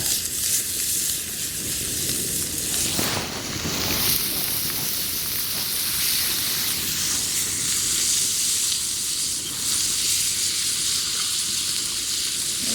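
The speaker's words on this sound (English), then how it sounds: "But I got myself a little bit of a pan fry going on here." Steak strips pan-fry in butter in a hot tent, a loud close sizzling hiss that swells as the meat is stirred, no speech.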